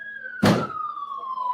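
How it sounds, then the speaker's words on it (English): A police car siren holds a steady, slowly falling wail, cut across by a loud thud near the start, in a busy emergency scene outside. "I do hear a police vehicle."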